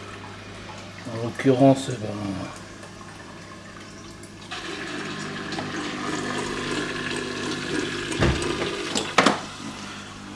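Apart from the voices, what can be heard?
water being sucked up from a breeding tank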